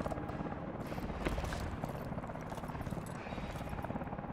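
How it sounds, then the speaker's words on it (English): A helicopter in the Call of Duty: Advanced Warfare video game gives off a faint, steady rotor thump with a rhythmic beating under low background game sound. "Push for the chopper!"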